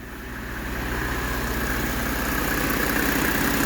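A cold 1995 Mercedes E300 engine idles steadily with fresh glow plugs, a smooth, even low rumble with a faint rhythmic pulse, close and continuous without talk.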